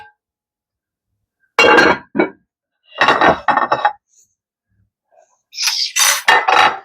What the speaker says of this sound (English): So let me grab the casserole dish.